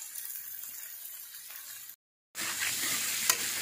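Green peas sauté in a pan for matar poha, a constant bright sizzle with stirring, cut by a brief silent gap before the frying hiss resumes, close and fairly loud.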